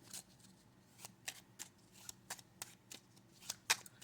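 Quiet, close riffling of tarot cards being shuffled, with repeated soft flicks and slaps in an irregular rhythm.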